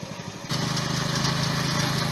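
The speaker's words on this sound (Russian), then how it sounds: "Там лифановский двигатель у нового блока." A walk-behind tractor with a Lifan engine used for plowing and planting potatoes starts up loud and close, settling into a steady buzzing run after a quieter moment.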